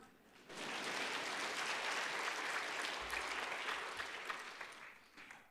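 A church congregation at a Sunday afternoon service claps steadily in a dense, sustained wash of applause that fills the room, fairly distant, then fades slightly near the end.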